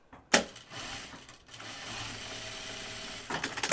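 A sewing machine stitches a seam on a flight suit in short bursts, a sharp mechanical whir starting after a click, running steadily, then picking up again at the end, close and fairly quiet.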